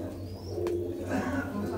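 An old female pigeon, kept for some 30 to 35 years, gives short low coos with a brief sharp knock partway through, fairly close over a constant low hum, with no voices.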